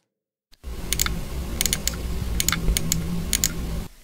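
Sharp dry clicks like computer mouse clicks come in irregular bursts, close and distinct, over a faint noisy background.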